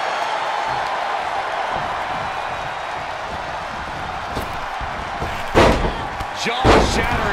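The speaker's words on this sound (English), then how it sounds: "Jaw-shattering boot." A wrestling boot kick landing in WWE 2K23, heard as a sharp loud slam followed by a second thud, over a steady arena crowd roar and game commentary.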